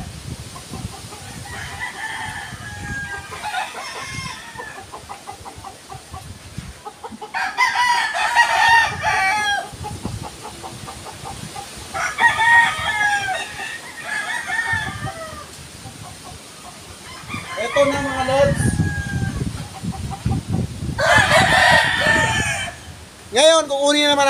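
Chickens, hens and a rooster on a farm, with repeated loud crowing bouts and scattered clucking close by, mixed with background rustling and handling noise.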